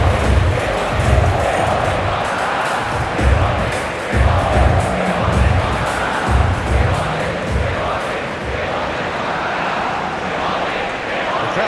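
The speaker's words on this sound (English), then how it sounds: "Crowd rises for the national anthem of Belgium." A big stadium crowd in a simulated Spain versus Belgium World Cup football match roars and chants in loud pulsing surges, a constant dense wall of noise throughout.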